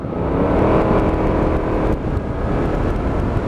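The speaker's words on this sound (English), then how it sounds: "you can just hear those gear changes coming in" Aprilia Mana 850 motorcycle riding along, its engine a steady, loud drone with a brief dip around the two-second mark that fits an automatic gear change, with wind noise throughout.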